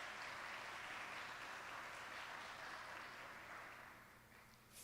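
A church congregation applauds during a worship service, a faint, distant wash of clapping that holds steady and then slowly fades away.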